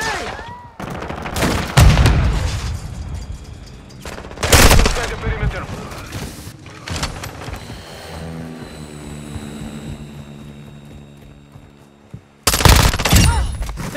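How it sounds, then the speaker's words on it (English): Call of Duty: Modern Warfare II multiplayer action sets loud grenade blasts and bursts of gunfire against a droning aircraft, heavy hits coming in clusters over about fourteen seconds while brief game voices call out. "Throwing grenade! Throwing flash grenade! Incoming grenade!"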